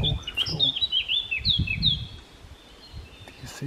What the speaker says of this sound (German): kommt dieser tolle Vogel geflogen.